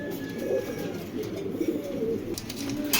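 Racing pigeons of a Janssen bloodline in a loft, a steady low rolling coo repeating throughout, moderately close, with a few faint clicks and rustles.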